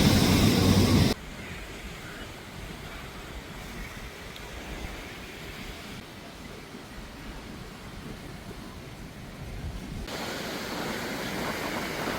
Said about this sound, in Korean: 파도가 엄청 세져서 원래 한 여기까지 파도가 들어가는데 지금 여기까지 파도가 오기 시작을 했거든요